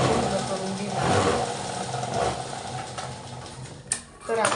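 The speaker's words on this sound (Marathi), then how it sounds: "आता बघा ही आपली शिलाई मारलेली आहे. थोडीशी राहिलेली होती आणि आपण पूर्ण करून घेणार." A sewing machine runs continuously, stitching a pressure seam with a steady mechanical whir. The motor noise swells and eases, and a brief clack comes near the end.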